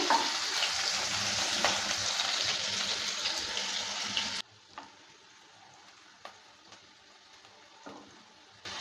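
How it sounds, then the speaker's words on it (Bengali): Chopped capsicum sizzles loudly in a pan for a few seconds while being stirred, then the frying noise drops away to faint crackle with occasional scrapes and clinks, made while cooking paneer bhurji. "ক্যাপসিকাম কুচিটা দেওয়ার পর ভালো করে নেড়ে চেড়ে নিচ্ছি"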